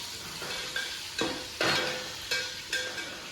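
Green chilies drop into browned onions in a hot pan: a crackling sizzle broken by about six sharp stirring scrapes in an uneven rhythm, close and alone.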